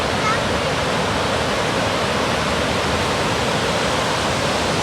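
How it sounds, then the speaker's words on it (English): Montmorency Falls in Quebec roars as a steady, loud, unbroken wash of falling water that fills the whole clip with dense, even noise. "see, there's the waterfalls right there"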